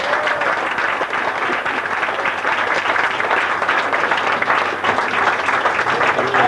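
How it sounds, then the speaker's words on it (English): A room full of people at a bowling club applauds steadily and loudly, a continuous dense patter of many hands clapping with no talking over it. "I'd like you all to give them a round of applause for what they've done for us."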